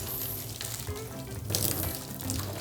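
Hot water is poured out of a pot and cooked noodles are rinsed under cold water, giving a continuous splashing, running-water rush with a louder gush partway through, close and alone.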